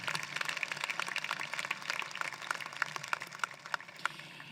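Audience applause for graduates at a 2022 high school commencement ceremony, a dense steady patter of many hands clapping continuously throughout, moderately loud with sharper individual claps near the end.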